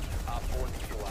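Rapid gunfire in the video game Rainbow Six Siege, a dense, continuous rattle of shots filling the whole moment at steady loudness, with players' voices mixed in.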